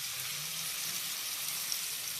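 Potatoes frying in oil while being stirred, a soft steady sizzle with faint crackle throughout, moderately quiet and without talk.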